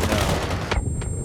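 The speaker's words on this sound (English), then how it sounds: "I wonder how far this magnum shoots." A magnum fires in Blacklight Retribution, its sharp report landing amid a busy, loud game mix, followed by a quieter second shot.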